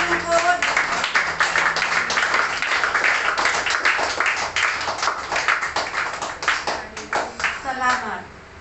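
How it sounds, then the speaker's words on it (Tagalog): A church congregation breaks into loud, sustained applause for its head minister, many hands clapping densely in a large space, with voices calling out over it before it thins toward the end. "pwede bang bigyan ninyo ng malakas na palakpak ang inyong punong lingkod?"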